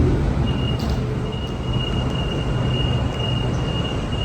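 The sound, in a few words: Sydney train departing station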